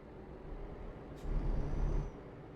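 A truck in a driving simulator video game rumbles past, with a brief hiss like an air brake and a swelling low engine drone that peaks and fades within a couple of seconds.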